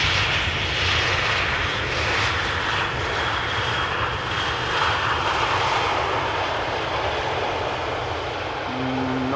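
An Airbus A320 arrives at Amsterdam Schiphol with idle thrust reversers, its engines giving a sustained loud roar and whine that holds steady and then eases slightly, with no talk.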